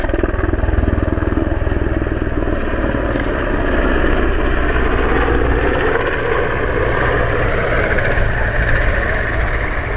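An AgustaWestland Merlin helicopter of 824 Naval Air Squadron flies at the Waddington 2013 airshow, giving a loud, steady rotor and turbine roar that holds without a break throughout.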